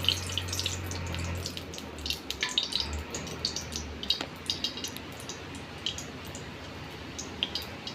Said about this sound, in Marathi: त्यामध्ये आपण दोन पोळी तेल घालूयात